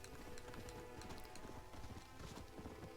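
Horse hooves clip-clopping in the video game Red Dead Redemption, a quick steady trotting rhythm of hoof beats, faint and continuous with no talk.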